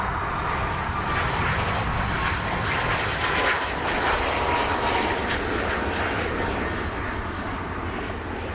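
A Ryanair Boeing 737 Max 8 jet at Dublin Airport roars steadily and loudly throughout, a broad continuous engine rumble with no talk over it.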